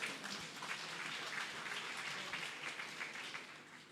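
An audience applauds steadily for the whole stretch, a soft, distant wash of many hands clapping at an even level before tapering slightly at the end.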